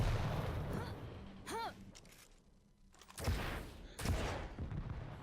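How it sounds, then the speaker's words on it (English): Rocket launcher fire in a Quake Champions one-on-one duel qualifier match: sharp explosive blasts and bursts crash in at irregular intervals, loud and punchy, with quieter game sounds in between. "The rocket placement from gloat is really causing KGB a lot of problems."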